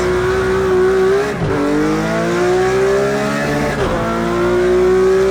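A Porsche GT3 RS in the Project CARS 2 or Assetto Corsa racing game revs hard, its engine note climbing through gear changes with brief dips and shifts, loud and close.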